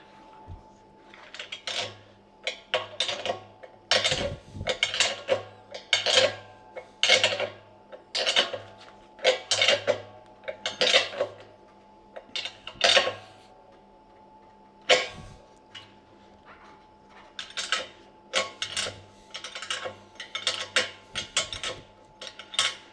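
Ratcheting clicks from a 7/8 spanner snugging a gas disconnect fitting onto a beer keg, sounding as many short, close metallic bursts in irregular runs across the whole span, with no talk.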